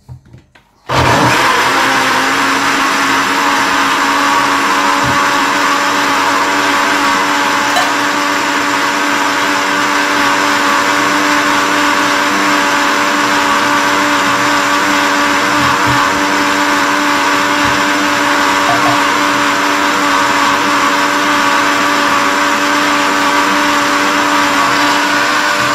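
An electric blender whirs at full power, blending banana, ginger and Volvic water, starting abruptly after a brief quiet moment and holding a loud, steady motor drone throughout, with no talk.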